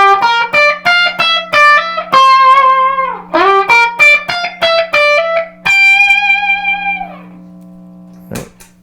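Electric guitar through a KTR overdrive pedal into an 8 watt Little Walter amp head, playing a lively run of distorted notes and chords with a steady background hum, ending on a sustained ringing chord and one final strum.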